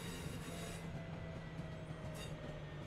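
A train in the video game Train Sim World 3 rolls into Manchester Piccadilly station, a steady low rumble and hum of the railcar with faint wheel noise, heard alone at low level.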